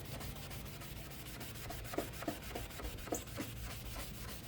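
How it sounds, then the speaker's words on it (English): Headlight lens scrubbed by hand with a Meguiar's restoration kit, giving a faint, steady rubbing and sanding texture with a few brief scrape accents and no voices. "I think I just got to keep scrubbing."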